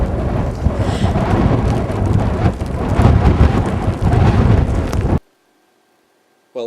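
Heavy rain pours down with deep rumbling thunder and gusty noise in Chile's Rio Baker Valley, Patagonia, loud and continuous, then cuts off abruptly into near silence.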